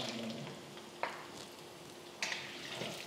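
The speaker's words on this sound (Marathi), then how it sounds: "हे छान एकत्र परतून घ्यायचं." Green chilies and peanuts for chivda sizzle and fry in a pan, a soft continuous hiss broken by a few sharper stirring scrapes, close but quiet with no talk.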